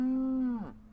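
A cartoonish cow moo plays from an animal button in the video game Outcore, one steady low tone that bends downward and fades out within a second.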